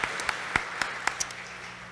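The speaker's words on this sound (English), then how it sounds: "Let's give her a big round of applause once again." Brief applause from an audience at a women's awards event, a handful of sharp, distinct claps over a thin crowd patter, moderately near and fading out quickly.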